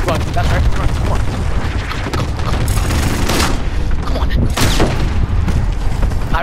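Dense, loud gunfire and booming explosions from the video game Call of Duty: Modern Warfare fill the scene continuously, with mechanical clatter mixed in and a player's voice talking over it.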